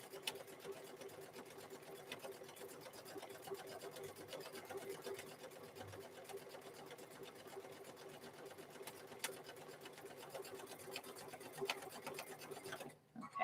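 A sewing machine runs a steady fast stitch across a fabric microwave bowl koozie, an even mechanical whir with rapid needle ticking, close and continuous before stopping at the end.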